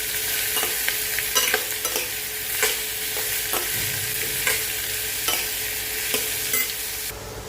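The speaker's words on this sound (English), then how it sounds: "in English we call it bottle gourd or long melon. So add this and fry it" Bottle gourd, also called long melon, frying in a pan with a steady broadband sizzle and repeated sharp scrapes of stirring, fairly close and continuous throughout.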